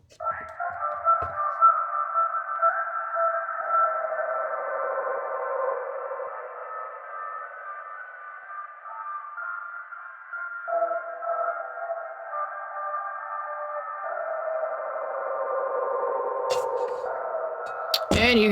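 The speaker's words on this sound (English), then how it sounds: "And you got your instant sci-fi noise" Sampled synth effect with a sonar-like sci-fi tone, a sustained warbling midrange drone that shifts slightly in pitch and texture, fairly steady in level, ending with a brief click burst.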